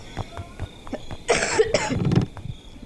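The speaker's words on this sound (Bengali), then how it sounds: "বকর বকর করার জন্য আমার কাশি গেল।" A person gives a short burst of two or three harsh coughs near the microphone, standing out clearly against a quiet room background.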